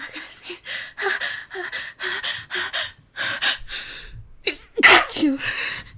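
A person sneezes, with sharp bursts of breath and gasps falling in a loose rhythm through the clip, loud and close. One strong, bright sneeze stands out near the end.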